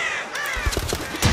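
Several crows caw harshly in Until Dawn: Rush of Blood in a quick burst of overlapping calls, close and loud against a dense game backdrop.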